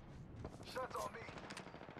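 Video game gunfire aimed at the player in a multiplayer battle, a faint quick burst of rapid machine-gun shots heard over a low background, with no talking.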